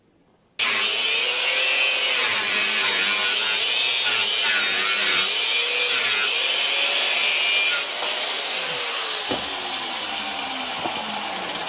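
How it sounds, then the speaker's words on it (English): Aluminium being ground to shape a tripod quick-change camera adapter plate: a steady, loud, continuous abrasive whir with a slightly wavering pitch that runs alone for the whole stretch, easing a little near the end. "Grinding aluminium is such a nasty business. All you get is dust, not one spark."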